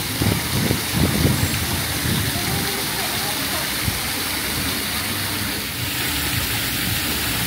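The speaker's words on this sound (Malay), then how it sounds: "Air pancut." A water fountain splashes in a steady, rushing wash of falling water, with a voice speaking briefly over it near the start.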